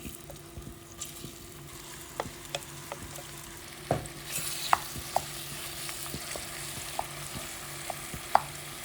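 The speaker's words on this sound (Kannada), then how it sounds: "ಈಗ ಇದಕ್ಕೆ ಬೇಕ್ ಮಾಡಿರೋಂಥ ಬಟರ್ನಟ್ ಸ್ಕ್ವಾಶ್ನ ಹಾಕೋತೀನಿ" Baked butternut squash stirred in a pan over a soft continuous sizzle, with sparse sharp spoon taps and scrapes at irregular intervals and a low steady hum beneath.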